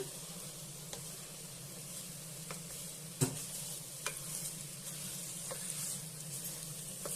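Rice with field beans (avarekalu) is stirred gently in a pot over steady low sizzling, with soft scrapes and light taps of the spoon every second or so against the pot.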